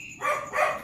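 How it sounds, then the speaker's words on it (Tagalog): A pet dog at home gives two quick barks in succession, moderately close and clear, with no talking. "Yung aso ko tumatawag sa akin"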